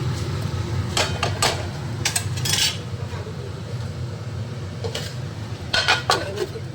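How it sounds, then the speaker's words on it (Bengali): Metal cookware clinks and clatters in a home kitchen as a lid is set onto a cooking pot, with several sharp knocks spaced apart over a low background hum. "এখন আমি এবার একটু ঢেকে দেবো"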